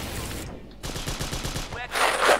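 Rapid automatic gunfire in the World War II dinosaur shooter Dino D-Day, a quick rattling burst of close shots followed by a louder, noisy blast near the end.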